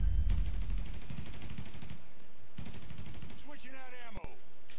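Gunfire in the video game Mafia III comes as rapid automatic bursts over a dense game soundtrack, with a clipped sharp shot near the end and a voice talking over it.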